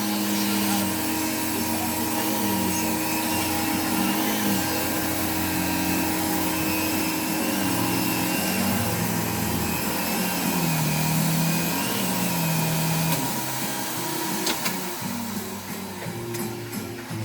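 A 1989 Hoover Dimension 1000 canister vacuum cleaner runs steadily and loudly throughout, a constant motor drone with a shifting tonal whine, and a voice is heard faintly underneath.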